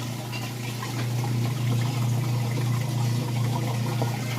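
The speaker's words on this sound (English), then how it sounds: "it is draining out the water from the rinse" A Whirlpool washing machine drains its rinse water before the spin cycle, giving a continuous low pump hum with a gurgling, rushing flow of water over it, steady and close.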